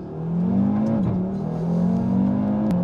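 A 400 hp Audi RS3 on a timed lap hums loudly from inside the cabin, its engine note climbing steadily through two gears with a brief dip at each shift and no voices.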